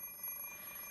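Electronic alarm clock ringing in the visual novel game Fate/stay night, a steady high tone holding for about a second, faint.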